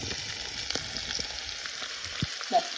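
Ingredients for a Kerala-style mango pickle sauté in a pan, giving a steady close sizzle with scattered soft stirring scrapes and a small clink near the end.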